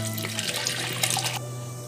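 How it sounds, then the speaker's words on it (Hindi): Tap water runs steadily into a vessel of chana dal being washed, a continuous close splashing stream with no talk. "पानी डाल दिए हैं हम।"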